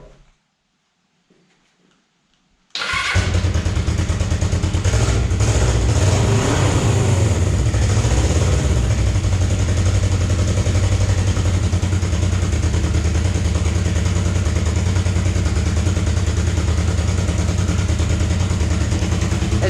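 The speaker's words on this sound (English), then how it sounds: "As you can see, it starts right up. This engine runs even smoother than that engine" A Suzuki GS 500 motorcycle in rough condition cranks and fires after a short silence, then settles into a steady, loud, close idle that runs on without pause.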